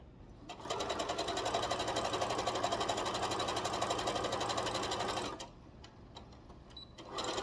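Sewing machine stitching fabric, a steady rapid mechanical whirr running for about five seconds close by, then stopping into quiet room noise.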